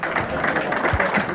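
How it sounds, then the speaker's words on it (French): An indoor audience at a Sufi festival in Paris applauds the performers with a dense, even wash of clapping that holds steady from start to finish. "On les applaudit bien fort"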